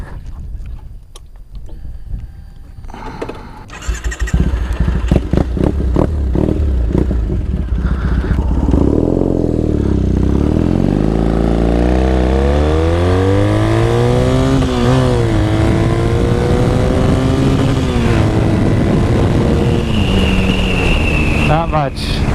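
A Triumph Thruxton Ace motorcycle winds out under hard acceleration, the engine note climbing loud and close through several gear changes with wind rush, after a quieter idle start.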